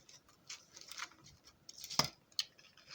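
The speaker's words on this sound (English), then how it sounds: "Cut that corner." Scissors snip through designer gift wrapping paper at the corner of a papier-mâché box, a few quick crisp cuts and papery rustles heard close up and faint, with no talking.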